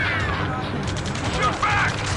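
Gunfire in the video game Ace Combat crackles in scattered bursts beneath a continuous wash of battle noise, with radio-style voices speaking over it throughout.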